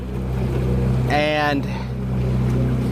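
Evinrude Etec 30 HP outboard motor running on a boat in a harbor, a steady close engine drone that goes on under a man's brief spoken word.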